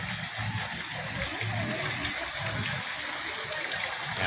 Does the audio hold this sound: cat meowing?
no